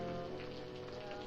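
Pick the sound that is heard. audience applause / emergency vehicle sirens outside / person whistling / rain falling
rain falling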